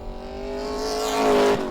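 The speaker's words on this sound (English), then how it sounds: "just look at that car power up that new section" Racing car accelerating hard out of a corner onto a new section of the Winton circuit during a British sportscar race meeting, engine note climbing steadily and swelling louder as it nears, then easing, with no talk.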